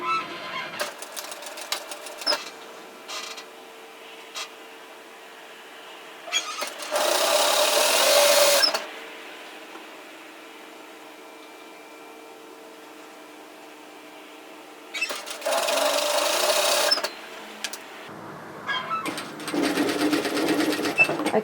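Sewing machine running in two loud steady bursts, stitching a 1 cm seam on bib overalls, between stretches of quieter handling, fabric rustle and small clicks, with a softer spell of machine noise near the end.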